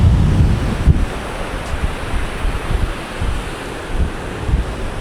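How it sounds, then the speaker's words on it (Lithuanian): Surf rolls and breaks along a windy Spanish coastline, a steady roar of waves with heavy wind buffeting the microphone, loud and continuous with no voices. "Ir šiandien biški vėjuota ir tokios bangos yra"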